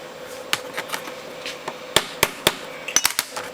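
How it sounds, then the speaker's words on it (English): A hammer taps at a Mosin Nagant rifle bolt part in a series of sharp metallic clicks, sparse at first and then quickening into a rapid cluster near the end, close and clear with no talking. "Tap it until it's about ready to start coming out."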